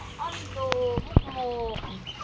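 A hungry rooster gives a few harmonic, drawn-out clucks in close succession, close and clear over faint background noise, with one sharp knock in the middle.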